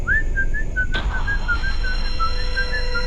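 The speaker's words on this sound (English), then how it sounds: "we heard the whistle again too." A steady, thin whistled tone runs on, wavering slightly in pitch, with a brief soft knock partway through.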